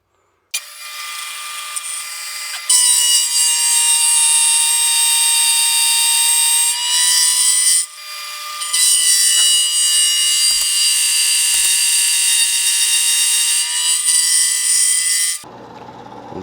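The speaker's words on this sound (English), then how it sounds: "We're going to rough most of it out with the face mill and just take it down just up to that line." A face mill on a milling machine roughing down a metal workpiece, a loud steady whine with sustained high tones that runs almost unbroken for about fifteen seconds, dips once briefly, then cuts off.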